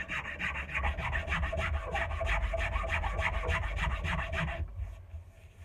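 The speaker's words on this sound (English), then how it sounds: "so I'm just going to rasp it and just stay in the top end." Steady rhythmic strokes of a wood rasp working the top end of a wooden tool handle being fitted to a tapered eye, a close, continuous scraping that stops near the end.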